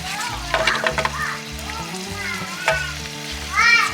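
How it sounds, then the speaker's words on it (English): Tomatoes frying in a little ghee give a steady close sizzle and crackle, with occasional stirring scrapes and background music throughout. "I'm just going to fry them up a little bit in a little bit of ghee"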